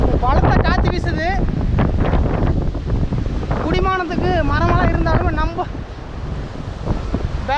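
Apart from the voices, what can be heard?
strong wind blowing on a mountain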